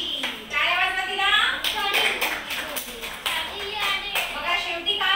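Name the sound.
schoolchildren clapping for a classmate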